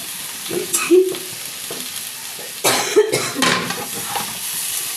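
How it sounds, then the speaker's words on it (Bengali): Boiled potato pieces being stir-fried with spices in a pan for a paneer dish, giving a soft ongoing sizzle with intermittent scraping and stirring bursts plus a brief cough nearby. "আলুটাকে মশলাটা দিয়ে ভালো করে কষিয়ে নেবো"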